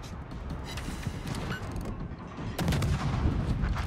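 Rapid naval gun salvos from an Akizuki destroyer in a warship game, a dense rumbling barrage of overlapping blasts that swells louder near the end.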